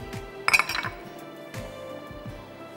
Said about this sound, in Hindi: यहाँ मेरे पास चॉकलेट है, वो एक हम बोल में डाल देंगे, चीनी उसमें डालेंगे